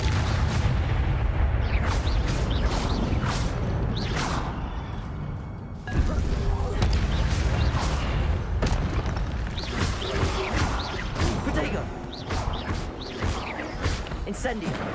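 The Incendio fire spell is cast in Hogwarts Legacy, giving heavy booming bursts and whooshes over a dense, continuous layer of game noise, with a voice talking throughout.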